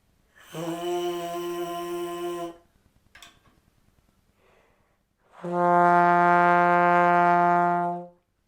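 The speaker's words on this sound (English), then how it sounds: "And this one is called the trombone" Trombone plays two sustained brassy notes, the first about two seconds long, then a short gap with faint breathy noise, then a louder, fuller second note held nearly three seconds, close and solo.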